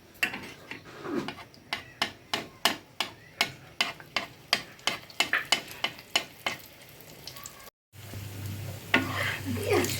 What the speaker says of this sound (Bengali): ভাঁজটা একটু আবার দিলাম নতুন করে